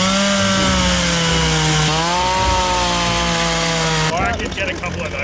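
A Homelite chainsaw, a cheap budget model, cuts through logs at a campsite with a loud, steady engine whine that drops in pitch as the chain bites into the wood, then breaks up near the end. A voice talks faintly underneath.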